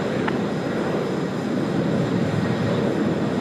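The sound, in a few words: aircraft at Sydney Airport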